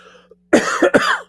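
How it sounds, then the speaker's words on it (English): A single harsh cough, loud and close, breaking into two or three rough bursts after a moment of near silence. "And I apologize about this cough."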